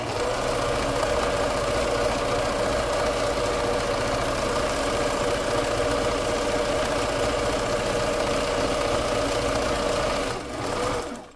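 A sewing machine stitches continuously over a paper junk journal page, a steady close mechanical whir and rapid needle chatter that runs unbroken before slowing briefly near the end.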